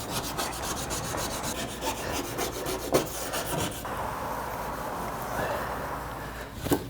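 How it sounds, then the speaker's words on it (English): A Weiman cooktop cleaning kit scraper is worked across a glass stove top in rapid, rhythmic rasping strokes. The scraping is close and steady, then eases off into softer rubbing with a few sharp clicks. "I'll do the same thing over here, scrape it down"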